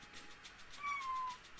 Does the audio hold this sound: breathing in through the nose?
no